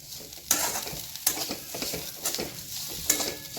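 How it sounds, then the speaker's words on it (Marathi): A spoon stirs mustard leaf bhaji with salt in a pan, village style: soft sizzling under the spoon, with sharp scrapes against the pan recurring every second or so. "मीठ टाकून मिक्स करायचे"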